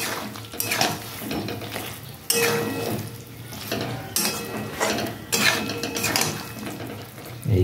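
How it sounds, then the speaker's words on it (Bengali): Fried jackfruit stirred and sautéed in hot spiced oil in a pan, with repeated scraping and clattering strokes of a spatula against metal over a steady frying sizzle, close and fairly loud, with no talking. "তো আমি এখন দিয়ে দেবো ভেজে রাখা ইঁচড়গুলো দিয়ে দিলাম, দিয়ে আমি কষতে থাকবো"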